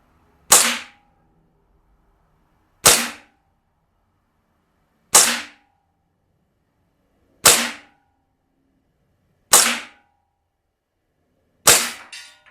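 A KJWorks CZ P-09 gas blowback airsoft pistol fired six times, each a sharp, loud, close crack with a quick decay, spaced about two seconds apart and alone.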